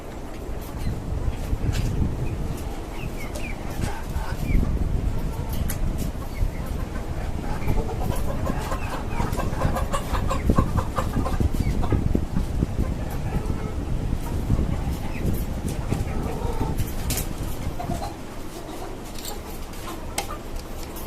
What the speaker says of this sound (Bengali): এখানে নতুন দুইটা টাইগার মুরগি আপনার মাত্র শিফট করছে